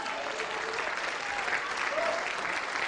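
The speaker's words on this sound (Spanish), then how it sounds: "Denle un aplauso a Jesús." Audience applauding during a Spanish-language sermon on the temptation of Jesus, dense steady clapping from a crowd that stays loud and even from start to finish.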